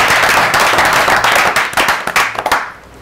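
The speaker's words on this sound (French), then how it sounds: "on peut quand même l'applaudir" Loud, close audience applause for Christophe on a pétanque show, dense clapping that thins into a few scattered claps and fades out near the end.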